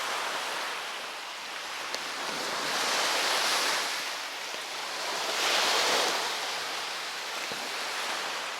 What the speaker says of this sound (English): Who doesn't love a nice, quiet, peaceful beach?